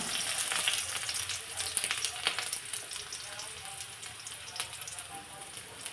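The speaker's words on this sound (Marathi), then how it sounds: "गॅसवरती कढई गरम करायला ठेवलेली आहे त्यामध्ये एक चमचाभर तेल घातलं" Chopped onion sizzles steadily in a spoonful of hot oil in a kadai on a gas stove, a dense continuous frying hiss with a few faint clinks, close and fairly quiet, with no talk.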